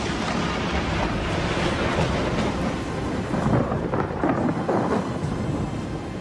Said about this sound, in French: Donc la foudre frappe l'avion